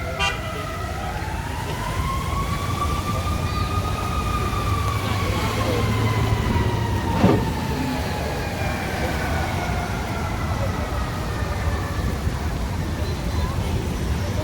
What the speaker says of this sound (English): Once they get in the middle of the traffic, they're going to turn the sirens on,